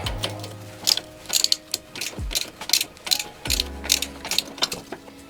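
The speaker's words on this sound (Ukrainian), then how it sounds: "Від прокручування використовуємо накидний ключик на 18. Так само відкручуємо і нижню гайку." An 18 mm ring wrench ratchets while loosening a front shock absorber nut on a Citroen C8, giving bursts of quick metallic clicks close up, with short pauses between strokes.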